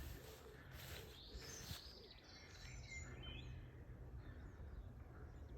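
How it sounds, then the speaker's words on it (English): Birdsong drifts over a quiet riverside walk in the Cotswolds countryside, several chirping calls rising and fading at a moderate distance above a steady low outdoor rumble, with no talking. "now we can hear the birds singing"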